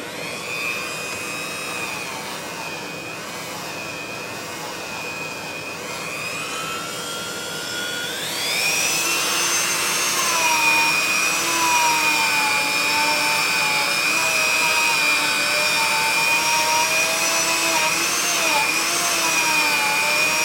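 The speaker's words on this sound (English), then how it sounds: "Let me get a Dremel and clean that up before we put a new one in" A Dremel rotary tool cleans a part on an antique Briggs engine, giving a steady high-pitched whine that shifts and rises midway as the tool bites, continuous and close.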